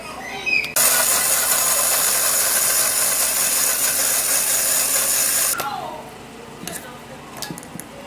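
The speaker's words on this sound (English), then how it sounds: "now we would have to blend it" A blender whirs loudly and steadily for about five seconds while blending a homemade grandmother's wrinkle and under-eye remedy, then cuts off, leaving faint clatter and handling sounds.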